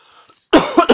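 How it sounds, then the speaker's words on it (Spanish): A person coughing while playing a crafting video game: a faint murmur first, then a sudden close, loud cough burst followed by two quick harsher coughs. "puta tos"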